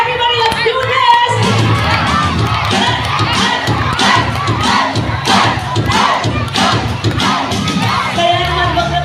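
Crowd at a celebratory dance event shouting "hey" in unison with cheers and clapping, a loud continuous wall of voices and whoops filling the whole stretch.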